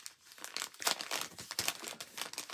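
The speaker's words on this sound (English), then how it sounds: "He likes to chew plastic bags." A cat chews on a plastic bag up close, producing irregular crisp crinkling and crunching bursts that come in quick clusters, fairly quiet, with no voices.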